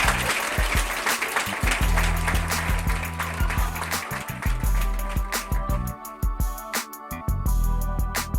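A studio audience on a visual podcast breaks into applause, a dense run of clapping layered over music and a loud mixed background, thinning out toward the end.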